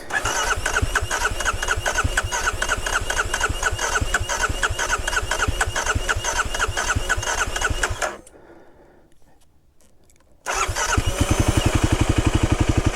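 A motorcycle engine cranks with a rapid, rhythmic starter chug, falls quiet for a couple of seconds, then cranks again loudly and close by.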